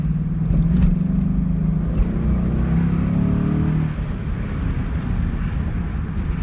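A 2001 Ford Mustang Bullitt V8 rumbles steadily while driving, heard from inside the cabin through an open window, with a rising engine tone that eases off midway and low road noise throughout.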